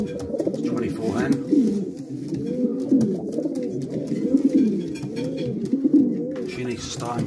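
Racing pigeons coo in a loft on race day, a steady, close chorus of low, throaty, overlapping coos with rain noise in the background.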